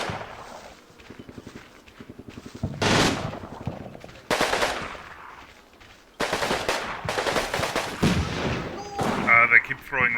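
Machine gun fire in the World War II strategy game Combat Mission: Rome to Victory: repeated loud bursts and rapid rattles amid other battlefield gunfire, with a voice talking at times.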